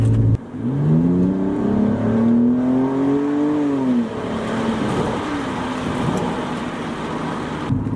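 A BMW E90 with an exhaust cutout revs up with a rising, throaty exhaust note, holds briefly, then drops back to a steady low rumble, loud and close.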